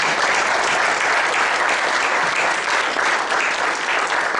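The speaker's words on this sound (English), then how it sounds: "A big round of applause." An audience at a start-up forum applauds, with dense, steady clapping at close range and no pause throughout.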